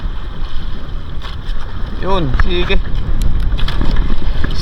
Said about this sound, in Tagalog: Lumakas kasi ang hangin.